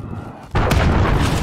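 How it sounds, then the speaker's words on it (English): A cruise missile detonates in the video game Call of Duty: Modern Warfare, an abrupt loud blast that cuts in after a quieter moment and leaves a dense, sustained rumbling roar. "Enemy cruise missile incoming"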